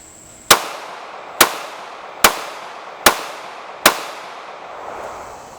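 A PSA Dagger Micro pistol fires five sharp, loud shots at an even pace about a second apart, each crack trailing off in a short echo.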